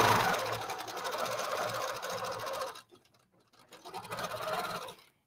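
A sewing machine stitches steadily at high speed during ruler-guided free motion quilting, a dense close whirring hum that halts for about a second, then resumes before stopping.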